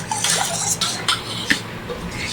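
A spoon scrapes and knocks around a cooking pot of prawn paruppu kulambu, with several close clinks and rattles over a low kitchen hum.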